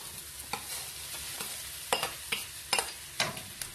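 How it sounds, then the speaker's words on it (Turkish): Onions and rice sautéing in a pan for a turkey dish, with a steady background sizzle broken by sharp scraping strokes of a stirring utensil, louder toward the end. "Güzelce kavuruyoruz."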